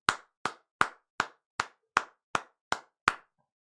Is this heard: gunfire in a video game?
no